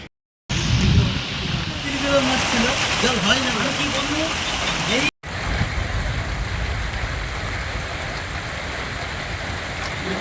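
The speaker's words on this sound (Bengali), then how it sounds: "তবে এদিন সকাল থেকেই আবারও বৃষ্টি শুরু হয়েছে" Heavy rain falling steadily over waterlogged farmland in Khanakul, a dense continuous hiss with a voice talking over it early on and a brief cut midway.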